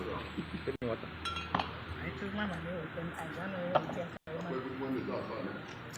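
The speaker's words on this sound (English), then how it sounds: "I gotta remove that glass." Glass clinks lightly several times while being removed, small bright taps scattered over a few seconds beneath continuous nearby talking.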